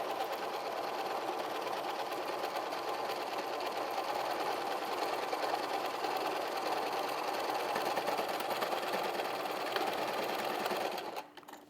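A sewing machine runs continuously, stitching the side seam of an apron, a fast steady mechanical whir close by that cuts off near the end.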